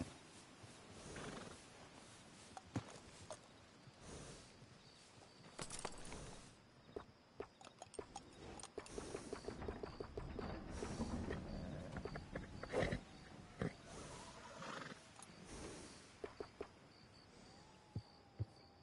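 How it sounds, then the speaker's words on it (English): Horse neighs and whinnies mixed with clip-clopping hooves in the Red Dead Redemption 2 video game, coming in scattered bursts over a low ambient bed, moderately loud and without talk. "Look after your horse good."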